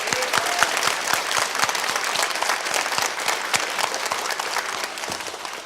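A church congregation at a Thanksgiving service claps in praise to God: a steady, moderately loud round of applause with crisp individual hand claps standing out, lasting about five seconds before tapering slightly.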